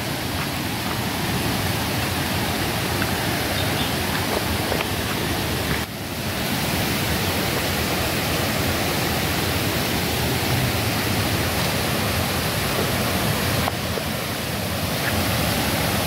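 Foaming water rushes loudly at Siddheshwar in the Konkan, a dense, unbroken roar close by that holds steady throughout, with no voices.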